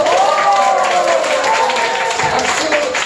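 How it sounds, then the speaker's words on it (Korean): Applause and clapping from an audience at a Korean health lecture, a dense steady patter filling the hall for about three seconds with no pauses. "맞으면 박수를 좀 치세요."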